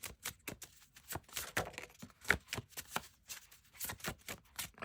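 Tarot cards being shuffled and pulled from a deck, a run of crisp, close riffling and flicking bursts coming in an uneven rhythm, with no talking.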